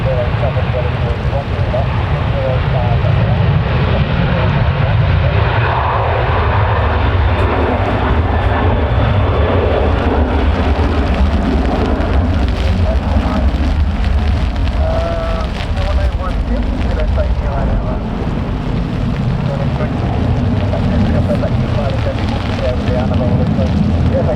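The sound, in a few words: Ryanair jet airliner taking off in a storm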